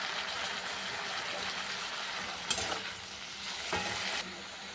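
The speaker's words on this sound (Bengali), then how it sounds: "এবার মশলাটা কষিয়ে নিই" Masala of tomato, green chili paste, salt and turmeric sizzles steadily in a pan for an amudi fish curry, with a few sharper spoon scrapes as it is stirred and no talking.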